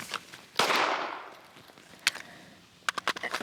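Sharp impulsive shots at a shooting range: one loud close report early with a long decaying tail, another crack midway, then a quick cluster of several shots near the end.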